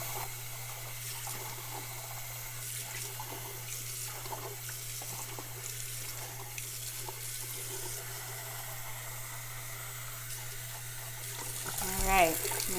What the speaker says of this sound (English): Get rid of this inky water.